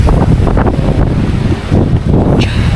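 Ocean waves wash onto Innang Beach on the Korean coast, a loud, continuous roar of surf buffeted by heavy wind rumbling across the microphone.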